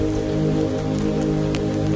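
Continuous rainfall on damp Edinburgh pavement, an even steady patter with occasional sharper drops standing out, no talking over it.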